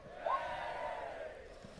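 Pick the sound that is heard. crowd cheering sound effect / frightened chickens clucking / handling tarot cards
crowd cheering sound effect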